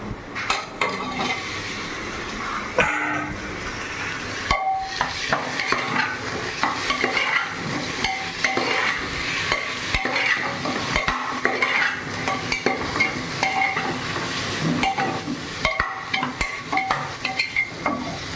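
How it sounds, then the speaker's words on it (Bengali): Onions fry lightly in a pan while being stirred, before mutton goes in. A continuous close sizzle sits under busy scraping and clinking of a spatula against the pan for the whole stretch. "পেঁয়াজটা হালকা হালকা ভাজা হয়ে গেছে"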